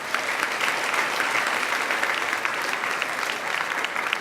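An audience at an awards show applauds its five finalists, producing a sustained, even wash of clapping throughout with no break.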